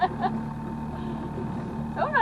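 Outboard motor on a small fishing boat droning steadily through choppy waves, with a low hum and hull slaps; a person talks near the start and end.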